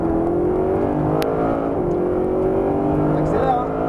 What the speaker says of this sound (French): Donc tu lâches le frein et gaz à fond.